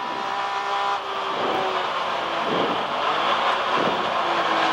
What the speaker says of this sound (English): You are on board the Toyota Supra Turbo of '94